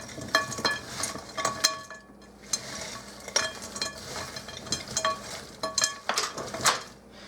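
Sausage and vegetables tossed in a pan or bowl for a family-size foil pack, giving a close, irregular patter of clattering food and utensil scrapes in bursts, with a faint sizzle underneath.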